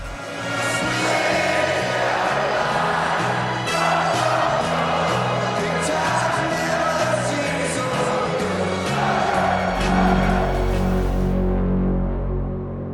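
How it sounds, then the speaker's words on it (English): A huge racecourse crowd sings together before the start of a race, a broad, loud, sustained wash of massed voices that swells and holds throughout. "the huge crowd broke into song"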